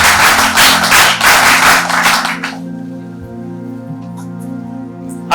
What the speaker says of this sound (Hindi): तालियों से स्वागत करें। इन्हीं तालियों की गड़गड़ाहट के साथ